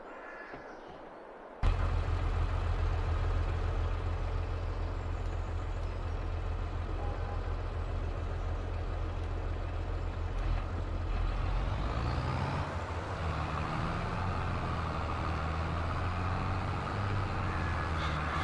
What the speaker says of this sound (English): The engine noises are loads better, the gear shift's better.